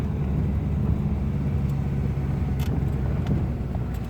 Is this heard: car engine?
yes